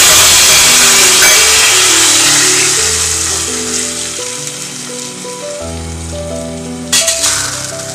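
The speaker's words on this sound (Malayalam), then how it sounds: "ഓക്കെ, നമുക്ക് കടുക് പൊട്ടിച്ച് ഇതിനകത്തേക്ക് ഒഴിക്കാം." Mustard seeds sizzle and splutter in hot oil for tempering a Kerala dried-prawn and raw-mango coconut curry: a steady, close, bright hiss throughout, with a low tonal hum underneath and a sharper flare near the end.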